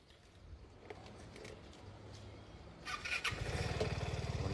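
A Vespa scooter engine cranks quietly at first, then catches and starts, settling into a loud, close, steadily pulsing idle.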